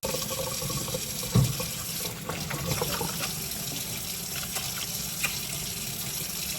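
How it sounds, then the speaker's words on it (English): Tap water runs continuously into a kitchen sink while hands are washed beneath it, a steady close hiss with small splashes and one soft thump, no voices. "wash your hands"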